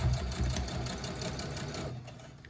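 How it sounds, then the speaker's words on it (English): A sewing machine runs steadily, back-stitching fabric pieces for a scrunchie, its rapid mechanical whir continuous and close throughout with no talk. "literally we're just gonna start sewing. This is it. Back stitch."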